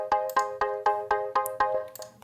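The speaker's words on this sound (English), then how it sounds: "there's also an LFO pad that sounds like this." Synthesizer pad built from a sine wave with added harmonics, close to a triangle wave, pulsing in a steady rhythm of about ten evenly spaced swells over a sustained chord, bright and alone with no voices.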